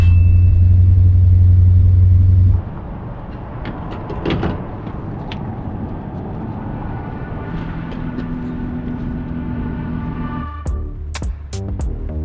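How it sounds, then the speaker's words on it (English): A 1978 Dodge D300 pickup truck, long parked and now running with an untuned carburetor, rolls down the road; a heavy low rumble drops suddenly at the start, then settles into a steady engine drone with cab rattles and a few clicks. "The Dodge is on the road."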